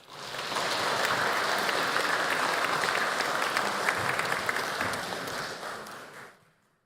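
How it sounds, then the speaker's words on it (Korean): Church congregation clapping together during a Sunday worship service celebrating a new baby, a dense, steady wash of applause that swells quickly, holds for several seconds and then fades out. "우리 박수 치겠습니다"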